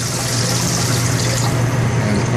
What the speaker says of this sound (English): And we added more water.